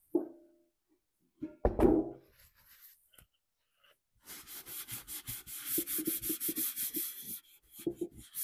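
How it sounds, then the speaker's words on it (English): Homestead wax is rubbed onto painted furniture in quick, rhythmic back-and-forth strokes, a close, soft swishing scrub after a few scattered knocks and handling noises. "all I'm going to do to seal it in for right now is just use some Homestead wax"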